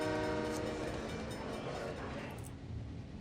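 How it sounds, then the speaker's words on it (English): A train rumbles along in the city-building game SimCity 3000, a steady, moderately loud rolling drone with a faint horn-like tone, fading slightly over a few seconds. "They're taking the train"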